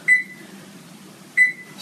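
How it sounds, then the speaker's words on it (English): A kitchen timer beeps twice, two short sharp electronic tones about a second apart, near and clear in a quiet kitchen while mustard seeds soak. "start a timer so that I know when 10 minutes is up"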